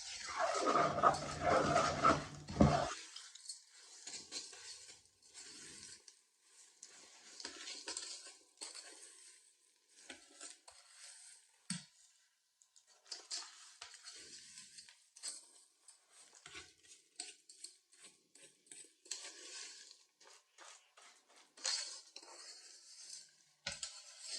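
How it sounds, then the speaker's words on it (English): Oats being stirred into a mixing bowl for flapjacks, with a loud scraping burst at the start followed by intermittent clinks and scrapes of a utensil against the bowl, close and fairly quiet. "So then we're going to add the oats. And then really give that a mix."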